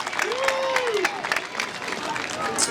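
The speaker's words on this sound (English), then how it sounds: "Huge round of applause." A crowd at a middle school culmination ceremony applauds the graduating class, with clapping mixed with cheering, crowd murmur and a brief whistle-like tone early on.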